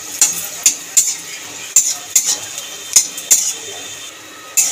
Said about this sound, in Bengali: বড়িটাকে ভেজে নেব তেলে দিয়ে।